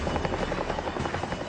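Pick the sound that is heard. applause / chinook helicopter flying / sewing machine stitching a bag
chinook helicopter flying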